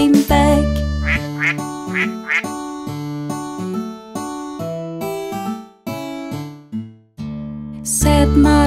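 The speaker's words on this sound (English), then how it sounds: "Mother duck said, quack, quack, quack, quack" Cartoonish duck quacks sound in a children's song, several nasal quacks in rhythm over a bright synthesized musical backing with sustained tones.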